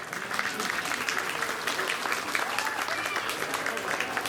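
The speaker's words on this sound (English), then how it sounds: "Let's go and give them all a big round of applause" Spectators at a youth sheep show at the Lycoming County Fair give a sustained round of applause, a steady mass of clapping heard from a moderate distance.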